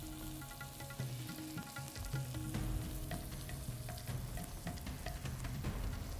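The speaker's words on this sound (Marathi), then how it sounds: "एक कांदा कापलेला टाकायचा. चांगले परतून घ्यायचे." Chopped onion sautés in a pan with okra bhaji, giving a soft, steady sizzle and crackle, with a few light stirring scrapes and clinks throughout.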